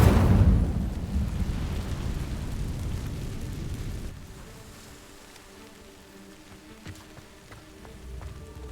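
Fire spell igniting dry vines in Hogwarts Legacy: a loud roaring whoosh of flames that bursts at once, rumbles for about four seconds, then drops to a quieter crackle with faint magical chimes.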